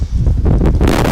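Strong wind in Paris blows hard across the microphone, a steady loud rushing roar with gusty swells and no voices.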